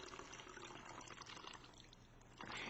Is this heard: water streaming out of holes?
yes